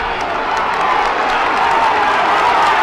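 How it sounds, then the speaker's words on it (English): A dense, sustained roar from Laois supporters at an All-Ireland minor Gaelic football final replay against Dublin, loud and continuous throughout with cheering rising within the broad crowd noise. "Hear the roar of Laois crowd."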